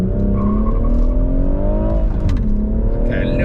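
BMW M2 Competition and M140i with six-speed manuals launch in a drag race, one engine revving loud and close with rising gear pitch and a brief burst of wheel spin, a short tire squeal near the end.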